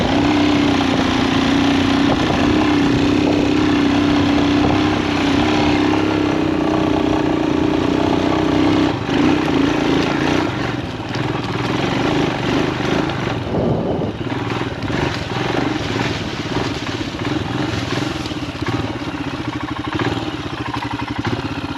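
A Royal Enfield Himalayan 462 big-bore motorcycle on worn TKC80 tyres accelerates in a sustained, loud, close engine roar that holds steady and then eases slightly, alongside continuous wind and riding noise.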